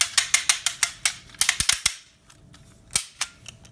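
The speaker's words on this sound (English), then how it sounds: "sometimes you want to go to that borderline where you get that one really loud click" A turbo Beyblade launcher ratcheting with rapid, sharp clicks in a quick series, then a few louder, spaced snaps as it releases, close and dry.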